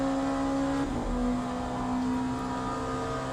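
LMP2 prototype race car engine in the sim racing game Le Mans Ultimate at Monza, a steady loud drone with tonal engine whine shifting pitch around a gear change, continuous and close throughout.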